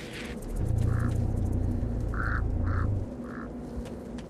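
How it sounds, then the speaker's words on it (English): Birds squawk in short honking bursts, a few calls spaced apart over a low sustained ambient drone in the Metro: Last Light video game, with no talk. "Birds."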